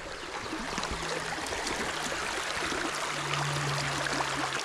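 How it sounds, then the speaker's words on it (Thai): A babbling stream gives a continuous soft rush and trickle of water, steady and unbroken throughout. "มีเสียงลำธารด้วยได้ยินไหมคะ"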